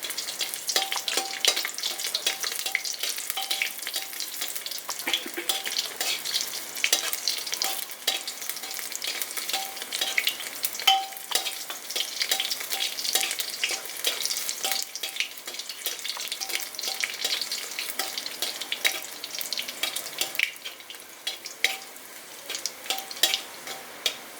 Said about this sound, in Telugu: ఎల్లుల్లిపాయలు కొంచెం వేగనివ్వాలి.